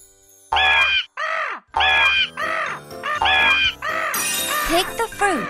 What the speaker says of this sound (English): Chase out the bird.